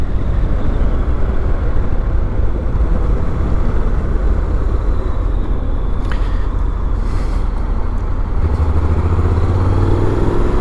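A Honda NC750X motorcycle engine pulling steadily while being ridden on a UK road, a loud, constant low drone with wind roar, heard alone without talking.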